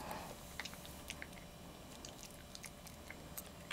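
A Maltese dog gnaws a dog chew, producing soft, irregular wet chewing and biting clicks close by over a quiet background.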